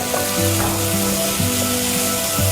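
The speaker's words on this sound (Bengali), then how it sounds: "এবার সবজিগুলো একটু নরম না হওয়া পর্যন্ত আমরা ভাজতে থাকবো।" Vegetables sizzle steadily in a hot pan, a loud continuous frying hiss with soft tonal music underneath.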